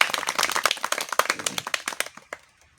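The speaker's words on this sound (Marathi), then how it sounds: "आपण टाळ्या वाजवून स्वागत करू." Audience at a Baramati taluka literary conference claps to welcome the conference president, a short burst of close, sharp claps that thins out and stops within about two seconds.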